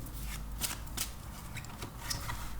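Tarot cards being shuffled by hand, a continuous soft riffling and slapping of cards close by, with a few sharper snaps, under a faint background hum.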